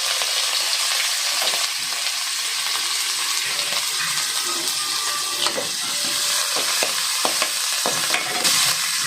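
Crushed ginger, garlic and green chilli sizzling loudly in hot oil for a chicken roll filling, a constant close frying hiss broken by scraping stirs of a spoon against the pan.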